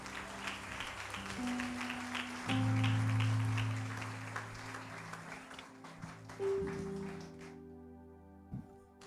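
A church congregation applauds during a Sunday morning service, moderate clapping under lingering sustained keyboard or organ tones that drop away near the end.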